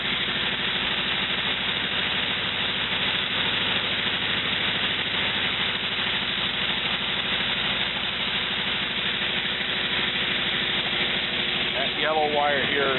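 A 1949 Willys fitted with a replacement used engine runs steadily, giving a constant, muffled rumble with broadband noise that holds unchanged throughout.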